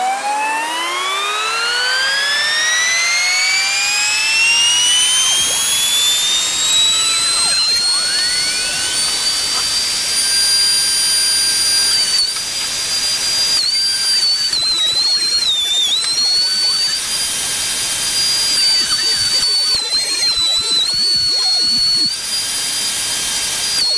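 A DeWalt electric hand planer whines loudly and steadily while smoothing a wooden board for a single bed frame, its pitch rising as the motor spins up and then holding with small dips as the blade bites the wood.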